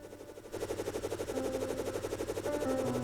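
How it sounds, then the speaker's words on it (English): A rapid-fire weapon in the game Terraria Calamity shoots a fast, even stream of repeating shots, steady and evenly spaced after a brief lead-in, over quiet background music. "And if we fast fire it"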